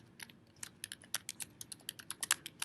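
Rapid typing on a computer keyboard while setting up an HTML tag, a steady run of about twenty crisp, close key clicks at an uneven rhythm, with no talking.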